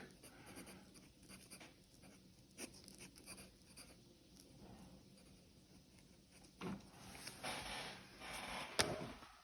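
A pencil draws a rough sketch on paper, with faint, quiet scratching strokes and soft rubbing that grow somewhat busier toward the end, heard close in a quiet room.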